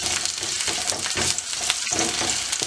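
Sliced garlic fries in oil in a pan, a steady dense sizzle and crackle with soft stirring, close and loud.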